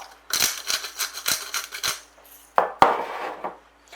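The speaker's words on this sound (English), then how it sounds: "Whisk it through" Eggs whisked with salt and pepper in a bowl or jug: a quick, close series of bright metallic clinks and scrapes against the rim, with a brief pause before two sharper strikes.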